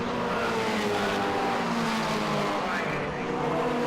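Formula Ford race cars lapping at the 2013 BRSCC Formula Ford Festival, including a slower Zetec-class car, with engines roaring loudly and steadily throughout, close by and dense with overlapping motor noise.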